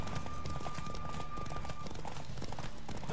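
A horse gallops in The Witcher video game, its rapid hoofbeats thudding steadily and closely throughout the short clip, with a faint whinny-like tone layered in.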